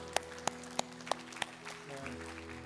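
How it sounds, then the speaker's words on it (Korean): During a church service, a few sharp, evenly spaced hand claps ring out close by, followed by a soft wash of quieter background sound. "우리 하나님께 큰 영광의 박수 한번 올려드립시다"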